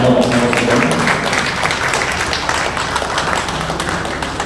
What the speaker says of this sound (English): I think we should give a big round of applause for them.